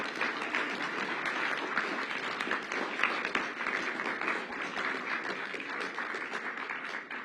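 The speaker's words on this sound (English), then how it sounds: "Give yourselves a round of applause for the hard work you did today." Youth summit audience applauding, a dense, steady wash of many hands clapping together that holds at an even, fairly loud level throughout.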